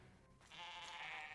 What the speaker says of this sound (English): Here's some goats